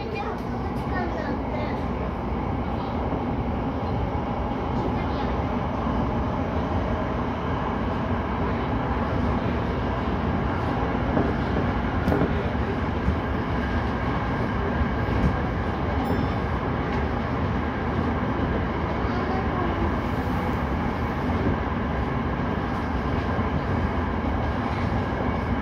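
A Tokyo Metro Tozai Line 05 series subway train (13th batch) runs toward Kasai station with a steady, continuous rumble of wheels and motors heard from inside the car, while onboard announcements play over it.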